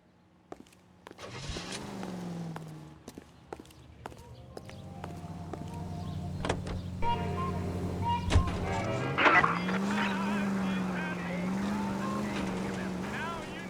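A car driving in the video game L.A. Noire, its engine droning and shifting in pitch under music, with brief bumps and clicks, moderately loud.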